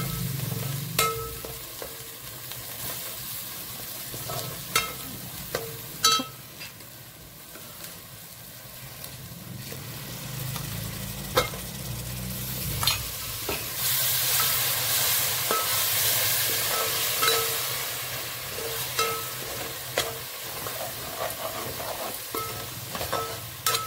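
Biryani vegetables with spices and curd fry in oil, producing a steady hiss broken by frequent scraping and knocking stirs of a utensil in the pot, close and moderately loud.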